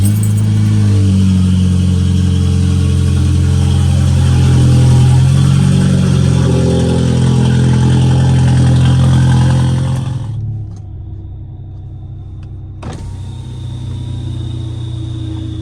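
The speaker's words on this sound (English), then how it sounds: "the obnoxious loud cold start from the rear muffler delete" A Volkswagen Passat 1.8 TSI engine roars loudly at a high, rough cold-start idle through an open exhaust with the rear muffler deleted, then drops abruptly to a lower, steadier rumble.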